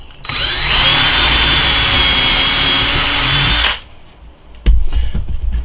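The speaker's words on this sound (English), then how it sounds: "Then I just drill my hole through." A power drill bores a hole through a wooden cabinet knob jig in one loud, steady whirring run of about three seconds, then stops, followed by a few clunks of handling.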